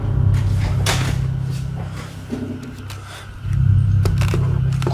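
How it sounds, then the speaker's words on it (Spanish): Knocks or bangs on a door a few metres away, several dull thuds and sharp hits spread over five seconds above a loud low rumbling background, with no speech. "Se escucha un golpe en la puerta que está a tan solo unos metros de José"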